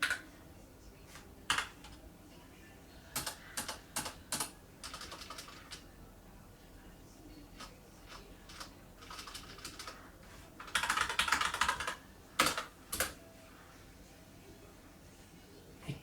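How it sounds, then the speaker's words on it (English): Typing on a Rantopad MXX mechanical keyboard with red switches gives soft, quick key clicks in scattered bursts and short runs, close and fairly quiet, with a few louder single taps. "What I just typed there was the password to the computer."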